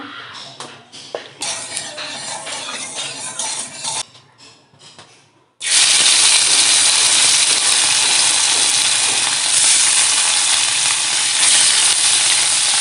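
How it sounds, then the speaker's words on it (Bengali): Chela fish frying in mustard oil: a quieter crackle with stirring, then a sudden loud, steady sizzle as the fish hit the hot oil, holding strong and close to the end. "সরিষার তেল দিয়ে মাছগুলো ভেজে নেব।"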